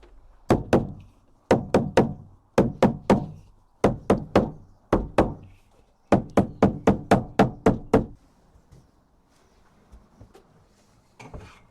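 Edging trim being knocked onto a fabric-covered panel in a VW Crafter camper van, bursts of sharp close knocks in quick groups of two to five, then quiet.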